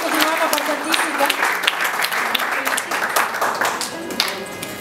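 Applause at a cultural week celebration in a hall, a steady wash of many hands clapping throughout, with a voice speaking over it.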